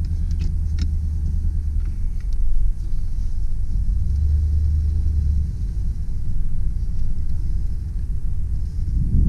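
A 1989 Chevy Caprice Classic station wagon pulls away with a steady, close low engine rumble and road noise that holds throughout, with no talking.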